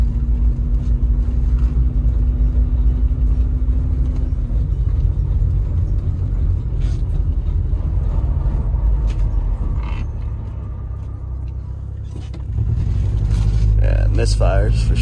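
Holden EK Coupe engine with misfires after a head gasket job, idling with a loud, close, continuous rumble and uneven tone, dipping briefly before picking back up.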